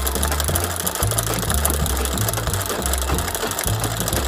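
A home sewing machine stitching embroidery, running loud and close with a steady rattling, clattering drive and rhythmic low thumps pulsing roughly once or twice per second, continuous throughout with no voices.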